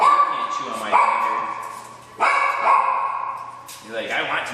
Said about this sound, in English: You're the barking one, aren't you?